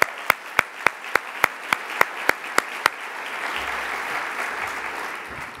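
Hands clap about ten times at a slow, even beat at a 2017 wellness conference, each clap crisp and distinct, and then the clapping stops and a low murmur from the room takes over.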